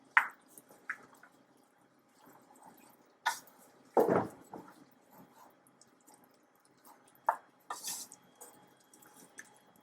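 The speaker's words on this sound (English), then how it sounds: "And stir to combine." Spoon stirring chickpea curry with drained chickpeas, carrots and sugar in a pot, soft wet squishes and scattered clinks against the pot, close and quiet with gaps between strokes.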